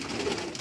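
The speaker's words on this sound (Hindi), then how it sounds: "लाल परी कबूतर" Lal Pari pigeons coo on a Karachi rooftop, a single soft, low throaty coo heard close by and fairly quietly.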